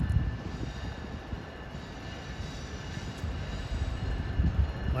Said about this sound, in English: passing by here, is Amtrak train 85 en route from Boston to Richmond, Virginia